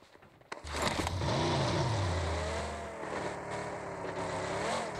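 A car speeding through a chase in PUBG Mobile on the Miramar desert map, its engine revving up and holding a loud, wavering drone close by for the whole stretch.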